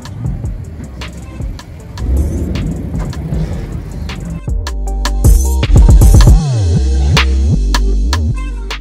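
Cars roll in at a car meet in Charlotte, North Carolina: a steady throbbing engine hum with passing vehicle noise and a few sharp clicks, loud and close throughout.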